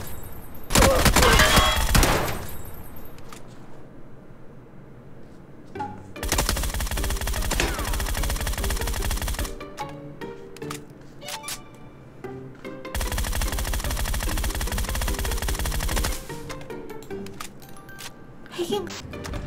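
Rapid automatic weapon fire in a shooting video game comes in three long, loud bursts, with reloading clicks and handling noises in the quieter stretches between them.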